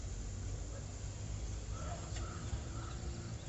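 Birds call faintly outdoors at a quiet sitting spot, a few brief chirps over steady low rumble and a passing vehicle in the background.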